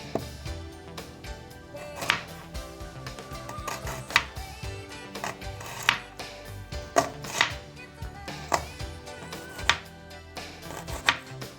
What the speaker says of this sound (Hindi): इसकी बिल्कुल बारीक कटिंग करेंगे, जैसे चॉप करते हैं हम प्याज को।